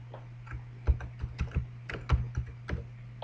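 Typing a team name on a computer keyboard: a dozen or so irregular, close key clicks over a steady low electrical hum, with no talking.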